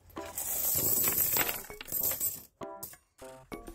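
Coins tumble and clink in a brief burst, a busy jangle of metallic chinks followed by a few separate ringing clinks, close and fairly quiet.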